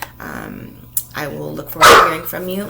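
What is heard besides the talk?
dog barking in the background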